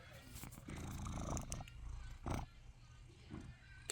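A house cat purring close by, a low steady rumble with a brief louder burst partway through, alone without talk.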